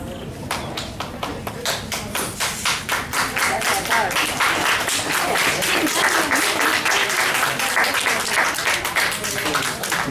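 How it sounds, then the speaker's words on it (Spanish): Audience applause fills the whole stretch, a dense steady wash of many hands clapping at a celebration with rhythmic bursts, loud and continuous, with voices mixed in underneath. "pero cada uno era un aplauso"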